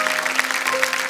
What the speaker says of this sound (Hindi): एक बार फिर जोरदार तालियां बज जाए इनकी।